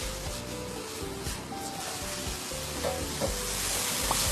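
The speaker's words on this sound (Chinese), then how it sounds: "把油煎出来那种猪油" Pork fat renders out in a hot wok with a continuous, close sizzle and bubbling crackle, a faint low hum running beneath it.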